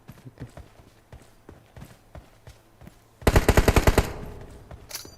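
Automatic gunfire in a team-based shooter video game, starting as scattered faint single shots and then a loud, rapid close burst of about eight rounds followed by a fading tail and one last shot.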